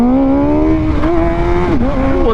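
A motorcycle engine revs hard in first gear during a wheelie. The loud, close whine climbs steadily in pitch, then wavers and dips briefly before rising again.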